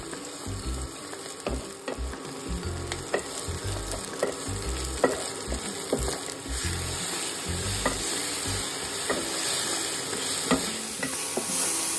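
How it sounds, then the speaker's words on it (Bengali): Chopped onion and green chilli fry in hot white oil in a wok, a steady close sizzle with repeated spatula stirs at an uneven rhythm and nobody speaking. "কড়াই সাদা তেল গরম করে দিয়ে দিয়েছি পেঁয়াজ কুচি আর কাঁচা লঙ্কা কুচি।"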